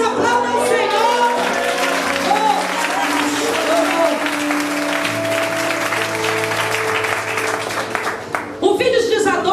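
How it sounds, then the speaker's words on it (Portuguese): A church congregation applauds loudly and steadily throughout, a dense wash of clapping at a worship service, with voices and music mixed in underneath. "Se você crê nisso, aplauda o Senhor."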